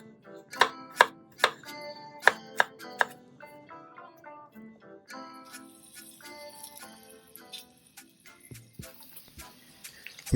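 A knife chops vegetables on a board for an onion beef stir fry, in a run of sharp, evenly spaced strikes that gives way to quicker, lighter chopping with some clatter, close up and with no talk.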